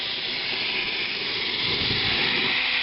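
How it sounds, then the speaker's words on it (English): Continuous loud, broadband hissing of steam escaping from a coal-fired steam locomotive's lifting safety valve, steady throughout with no pauses. "So that's the safety's lifting, so I can turn the blower off."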